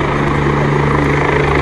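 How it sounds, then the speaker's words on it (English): A military rescue helicopter lands during flooding in Centurion, South Africa, its loud, steady rotor and engine drone continuous and close throughout. "So the choppers are actually landing,"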